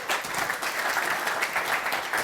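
Audience applause for a speaker introduced at a design talk on biomimicry, a steady dense wash of many hands clapping at moderate volume throughout.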